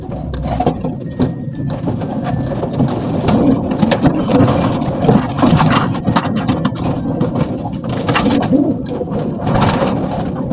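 Racing pigeons coo in a dense, close chorus with fluttering wingbeats and scuffling in a loft, over a continuous noisy backdrop.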